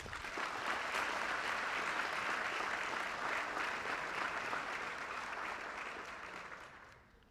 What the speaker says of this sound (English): if we could give a huge round of applause to Richard Antoine and Jim Wayne